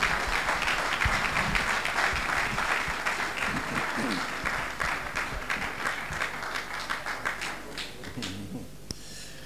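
A convocation audience at Elizade University in Ondo State applauds, dense sustained clapping from a large crowd that fills the hall steadily and then thins out toward the end.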